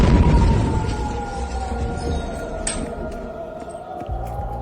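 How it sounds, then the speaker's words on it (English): A steady wailing tone hangs in the distance beneath broad rumbling noise, like an air raid siren sounding far off across an open area. "We do have a siren. You can hear it in the background."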